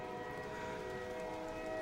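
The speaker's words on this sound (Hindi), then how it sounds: "ट्रेन की सीटी बज गई थी।" A train whistle sounds as a sustained, steady tone over the low rumble of a passing train, faint and distant, with no voices.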